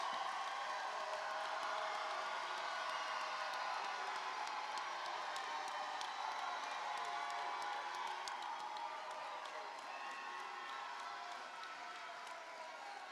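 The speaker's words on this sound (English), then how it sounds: "Let's give all of our graduates a round of applause" Graduates applauded at a summer graduation ceremony for the Class of 2025, a dense, even wash of clapping from a large hall audience, steady and sustained before slowly thinning toward the end.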